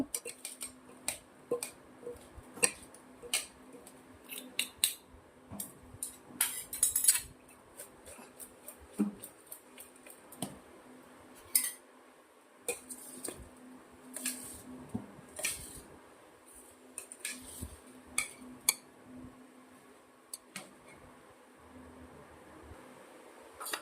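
A spoon mixes a moong and desi chana chaat with red chilli powder in a bowl, giving irregular soft clicks, taps and squishy scrapes close by over about twenty seconds with no talk.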